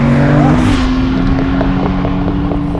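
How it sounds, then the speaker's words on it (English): A 575 hp Porsche 996 Turbo X50 engine roars loudly and steadily at about three-quarter throttle as it accelerates, a sustained droning growl with rising pitch, close and continuous throughout. "The thrust is legit of this engine. That was only about 3/4 throttle."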